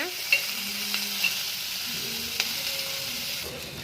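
Onions frying in oil, a close, even sizzle with occasional stirring scrapes and a couple of sharp metallic clinks against the pan.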